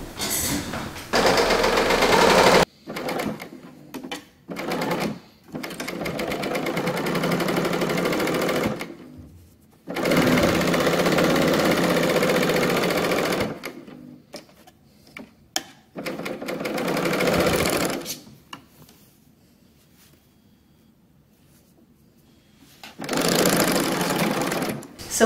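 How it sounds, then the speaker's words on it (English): An overlock serger sews along a raw fabric edge for a dress, loud rapid mechanical whirring in several long bursts separated by short pauses and near-silent gaps. "I'm gonna head over here to my overlock, and I'm just going to serge this raw edge"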